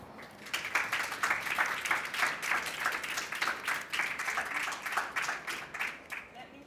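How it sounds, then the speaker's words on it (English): An audience at an arts biennale talk applauds its speakers, a modest, fairly quiet round of rhythmic clapping that rises, holds steadily for several seconds and tapers off. "please help me give our speakers a round of applause"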